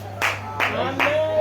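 Church congregation clapping during a Sunday service, three short separate bursts of nearby claps, each fading quickly, over a low steady hum.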